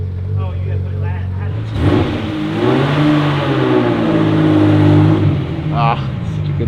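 A 32-year-old Ferrari Testarossa strapped to a dynamometer revs hard, its engine note sweeping upward in a loud sustained pull after a short idle, with someone talking briefly at the start.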